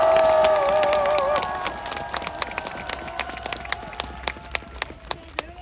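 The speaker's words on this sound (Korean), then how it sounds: "박수를 한번 쳐주십시오" An audience at a Korean prayer rally bursts into applause and cheering, which fades into scattered individual claps spreading through the crowd.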